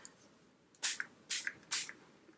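A spray bottle mists water onto paper coloured with washable markers, three quick close hissing bursts about half a second apart, each ending in a faint squishy drip.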